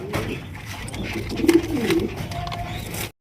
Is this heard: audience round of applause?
no